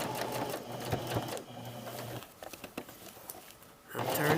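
A sewing machine stitches a patch pocket onto fabric in steady, close running bursts, pausing in the middle before starting again, with a person talking quietly between runs.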